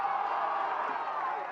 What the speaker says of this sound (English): Mitch cheering it on